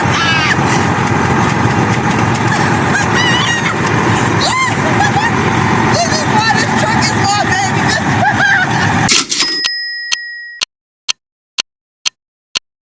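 Truck engine running loud and steady under people talking for about nine seconds, then cutting off abruptly, followed by several sharp isolated clicks or taps in near silence.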